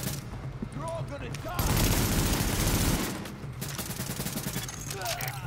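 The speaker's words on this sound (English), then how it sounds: "The escort party's taking heavy fire from the roof." Rapid gunfire from a rooftop gunner in The Division video game, a dense sustained burst in the middle flanked by ongoing battle noise, loud and close.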